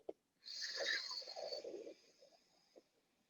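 A single long breath drawn in through the right nostril during alternate-nostril breathing practice, a close airy rasping inhale lasting over a second that fades out, then a faint short sniff.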